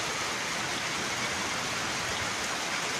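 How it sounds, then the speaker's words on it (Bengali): Heavy rain falls with a dense, constant hiss of drops on surfaces, loud and unbroken throughout, and no voices. "কি যে বৃষ্টি।"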